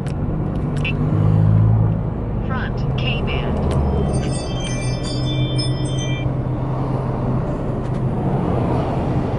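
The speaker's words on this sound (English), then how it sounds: "Traffic." Street traffic with cars passing, a steady low rumble of engines and tires close by, swelling briefly near the start, with a few faint high tones over it and a voice speaking briefly.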